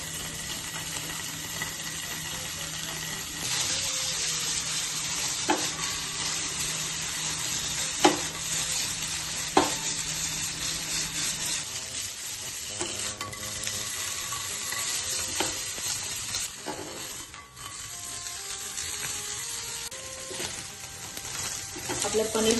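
Cubed paneer shallow frying in a little oil in a pan, a steady bright sizzle throughout, with occasional stirring clinks and scrapes, close and fairly quiet.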